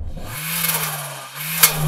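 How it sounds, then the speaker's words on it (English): A turbocharged Suzuki Jimny revs loud and close, holding a steady roar before a sharp hissing burst near the end as the turbo blow-off valve vents. "Loving the blow off from the turbo."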